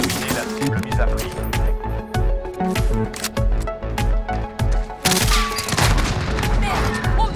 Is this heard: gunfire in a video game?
yes